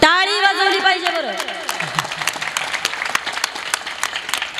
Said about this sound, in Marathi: सगळ्यांनी जोरात टाळी वाजवली पाहिजे बरं